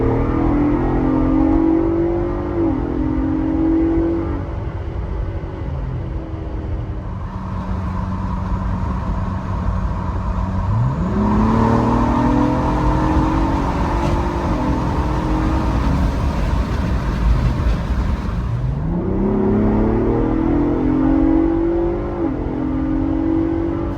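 Ford Bronco Raptor with a Ford Performance Procal tune accelerating at wide-open throttle, loud and close, the engine note climbing repeatedly with audible gear shifts dropping the pitch before it rises again, no talking.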